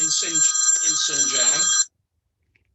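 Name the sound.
mobile phone ringing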